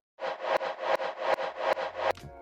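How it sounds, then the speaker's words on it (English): A reverb hit built from a hardstyle kick punch in Serum 2: a loud, steady train of about nine washed-out, punchy hits, each swelling into the next, ending in a short ringing tail. "recording that reverb, and then we get this reverb hit."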